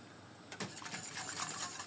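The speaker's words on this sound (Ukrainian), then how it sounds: "за допомогою вінчика буду весь час перемішувати" A whisk clinks and scrapes lightly against a metal saucepan while stirring custard cream on the stove, quiet and irregular, with steady background hiss.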